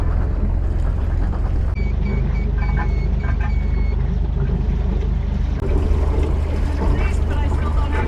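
A sailboat's engine runs in gear, a steady low rumbling drone that carries the whole time, with reversing-style beeps and people talking over it.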